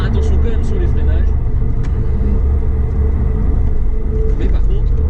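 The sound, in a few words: Audi S4 420 hp car accelerating hard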